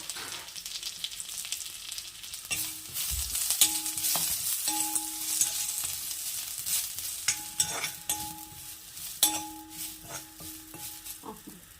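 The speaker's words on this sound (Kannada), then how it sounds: "ಎರಡು ಸ್ಪೂನ್ ತುಪ್ಪ ಹಾಕಿ ಅದನ್ನ ಕರಿಬೇವು ಸೊಪ್ಪು ಹಾಕಿ ಸ್ವಲ್ಪ ಬಾಡಿಸ್ಕೊಬೇಕು ತುಪ್ಪದಲ್ಲಿ" Curry leaves sizzle and fry in ghee in a pan, making a steady crackling hiss throughout with occasional clinks of a spoon or ladle against the metal.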